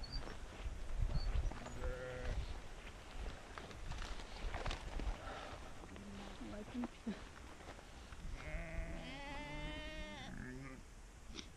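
A herd of sheep and goats bleats repeatedly in an open outdoor setting, calls rising and overlapping through a steady background of voices and movement, with a louder cluster of bleats near the end.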